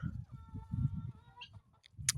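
Quiet, close clucking and soft low calls from chickens, with a brief squawk near the end.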